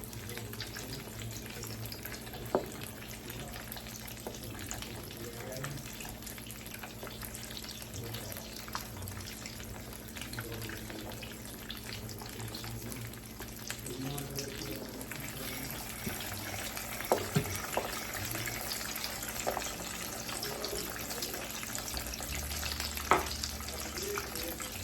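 Gravy thickening in hot grease on a stove, giving a steady low sizzle and bubbling hiss that runs faint and continuous, with occasional small clinks and stirring noises.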